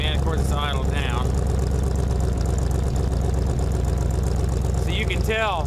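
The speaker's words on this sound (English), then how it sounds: "you can tell by the exhaust tone that the cam has a little bit more of a distinct tone to it" A 302 V8 with an aftermarket cam idles with a steady, distinct exhaust tone. Someone speaks over it at the beginning and again near the end.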